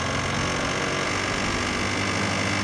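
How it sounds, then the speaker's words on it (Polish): A cold Peugeot CityStar scooter engine runs with a knocking noise, a loud, close, unbroken drone carrying a fast, regular tapping beat. "Już słychać wyraźnie takie stukanie."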